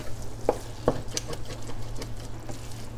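Vegetables cooking in a pot for clam chowder while being stirred, a moderate bubbling simmer with a low steady hum and a few distinct scraping spoon strokes and clicks near the start.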